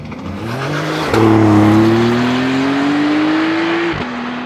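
A Porsche 911 drives by on a country road, its engine note rising sharply as it nears, holding a loud, strained tone for a few seconds, then cutting off as it passes.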